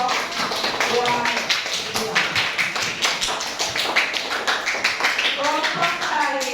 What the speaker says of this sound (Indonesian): kelompok lain tepuk tangan dulu buat kelompok uang